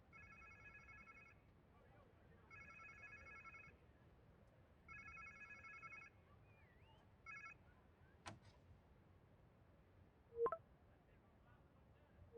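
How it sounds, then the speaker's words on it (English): A phone rings in the Spider-Man 2 video game, four repeated electronic trilling bursts of about a second each, evenly spaced and moderately loud over quiet ambient game sound, followed by a couple of sharp clicks. "Sounds like somebody's phone."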